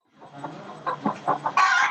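Broiler chickens cluck in a poultry house on a farm: a few separate calls close by, then a louder burst of overlapping clucking at the end.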